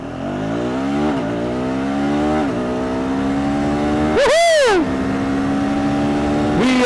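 A 2025 KTM 390 Adventure single-cylinder motorcycle pulls away from a standstill, engine pitch climbing through rising gears with brief dips at each shift and a loud rev peak near the end.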